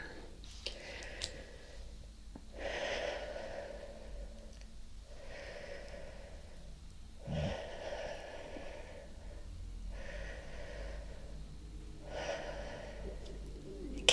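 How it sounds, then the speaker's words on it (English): Slow, quiet breaths drawn in and out through a snorkel during a diving lesson, five or six soft rushing cycles evenly spaced, close and faint with no talk. "We'll just check that everybody has got the breathing down for the snorkels."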